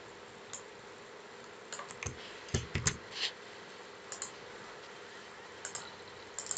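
Quiet computer keyboard clicks in short, sparse bursts, a few isolated taps and a tight cluster of keystrokes in the middle, close by against a low room hum.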